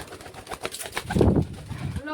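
Trained pigeons in a loft setup cooing in soft low throaty pulses, close by, while someone talks over them.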